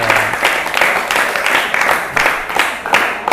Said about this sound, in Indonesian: tepuk tangan buat Bagas